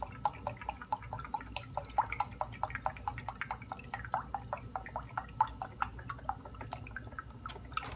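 Beef broth poured into a measuring cup in a home kitchen, a quiet steady stream of close dripping and trickling liquid with many small splashes continuing for several seconds.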